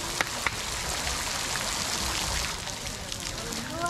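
Garden fountain spurting water up after handclaps, a steady splashing rush of falling water with a couple of sharp claps at the start, close and continuous.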